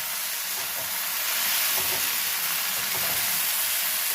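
Cut tomato frying in a pan for a flat bean, potato and tomato curry, a steady loud sizzle and hiss throughout with faint stirring scrapes, close, no voices.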